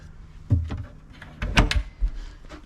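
A large storage drawer in a Sprinter camper van, holding dishes, slides and knocks shut with a few short thumps and rattles close by, with no talking.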